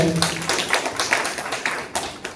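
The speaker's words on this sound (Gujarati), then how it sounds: "ફરી એકવાર જોરદાર તાળીઓ થઈ જાય લલિત માટે" Audience clapping and applause at a Rajkot literary talk event, a busy patter of many hands that rises and falls over a couple of seconds without voices.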